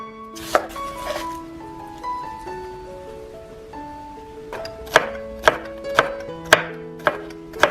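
Cabbage is chopped with a knife on a board, first a few sharp cuts, then a run of quiet resonant ringing tones, then a series of steady, evenly spaced chops close up.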